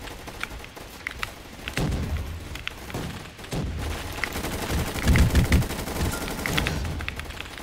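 Rapid gunfire from the Roblox game Gunfight Arena crackles in repeated bursts with dense automatic shots and thumps, loud and continuous with no talk.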